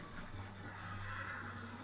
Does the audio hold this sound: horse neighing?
yes